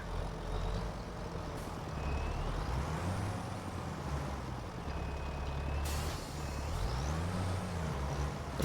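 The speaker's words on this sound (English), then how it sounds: "what I think I might do here is just move my trailer a little bit" Truck moving a trailer in Farming Simulator 25, a steady low diesel engine drone with rising and falling revs and a sharp hiss of air brakes, loud and continuous, no speech.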